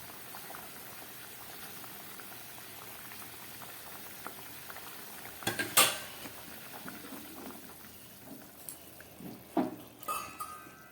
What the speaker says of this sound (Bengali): ঝোলটা পুরো ফুটছে।